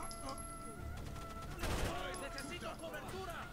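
Gunfire from the video game Rainbow Six Vegas, a dense burst of rapid shots with a loud peak in the middle, heard under game sounds and voices.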